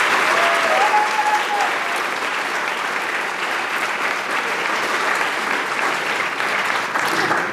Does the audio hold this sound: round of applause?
yes